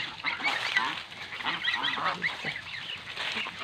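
Geese grazing on grass in a lychee orchard honk repeatedly at close range, overlapping calls that rise and fall without pause.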